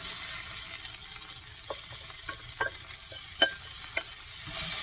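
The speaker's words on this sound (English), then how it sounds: "So at this stage I'll add all the cluster beans that I've boiled." Boiled cluster beans are stirred into fried onions in a pan, making soft scraping clicks and spoon knocks over a low steady sizzle, fairly quiet and with no talking.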